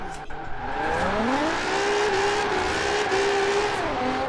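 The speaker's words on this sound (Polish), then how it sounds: "mogę sobie cisnąć gaz, nie naciskam sprzęgła i dalej samochód jest jak najbardziej na chodzie" A car engine in Forza Horizon 4 revs hard and holds high, rising and falling in pitch as it drifts, loud and continuous, with a faint tire squeal under it.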